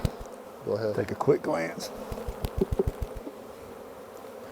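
Honey bees buzz close by while a hive is being split and bees are shaken from a box, a soft insect drone under brief talk, with a few sharp knocks and taps near the end.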